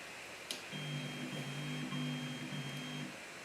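Stepper motors on an iMakr STARTT 3D printer kit whine faintly as the machine moves, a steady low electronic hum with a soft click at the start and end and no grinding.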